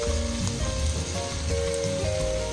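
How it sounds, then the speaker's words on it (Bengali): Bombay duck fish sizzles and crackles steadily in hot oil while frying with spices, a dense constant spitting hiss that stays loud and close without talk. "ভালো করে সব মশলা দিয়ে কষিয়ে নিচ্ছি।"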